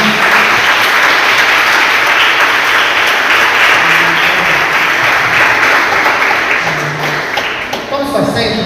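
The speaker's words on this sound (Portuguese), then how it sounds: "Pode aplaudir o Senhor forte" A church congregation applauds loudly and continuously during a Pentecostal service, dense sustained clapping filling the room and fading slightly toward the end, with voices mixed in underneath.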